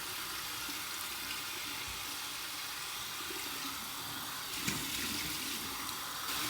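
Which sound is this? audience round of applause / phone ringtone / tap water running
tap water running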